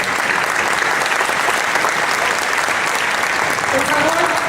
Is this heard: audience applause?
yes